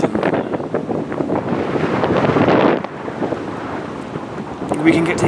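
Wind buffets an outdoor microphone in steady, rumbling gusts that swell and drop for several seconds, loud and close, with no talk over it.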